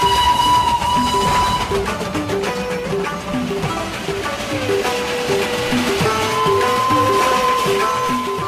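Darjeeling Himalayan Railway steam train in the Indian hills, a steady dense rumble of running carriages with sustained whistle-like tones laid over it, continuous and fairly loud throughout with no talk.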